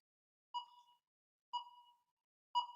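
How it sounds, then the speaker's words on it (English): Three identical short electronic tones at an even one-second pace, each a clean bright ping that quickly fades, with silence between. "There's a beep."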